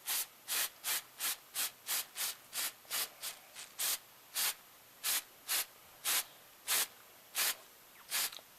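Light hiss of an aerosol spray misting a model railroad grass scene, sprayed from a distance in a rapid series of about twenty short, evenly spaced bursts, each a soft airy puff, with no talking.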